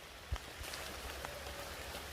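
Light rain falls outdoors near a waterfall and forest path, a soft, steady patter with a faint drop or two standing out, no voices.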